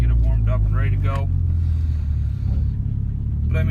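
A warmed-up Mitsubishi Lancer Evolution MR cruising down a street, a low steady engine rumble from inside the car, with someone talking over it at the start and end.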